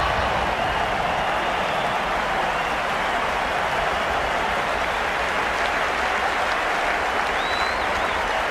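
A cricket crowd at a one-day international applauds and cheers in a dense, continuous roar of clapping that holds steady for several seconds.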